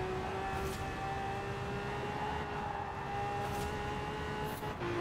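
Ford Transit van engine in Forza Horizon 4, accelerating at very high speed with a steady, loud, sustained drone and rising tonal whine throughout, no talk.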